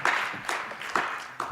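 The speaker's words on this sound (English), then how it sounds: "if we could get a round of applause for Senator Mass" Sparse, brief clapping from a small group at a student government Senate meeting, honoring the Senator of the Year, coming in a few separate bursts that fade quickly in a quiet room.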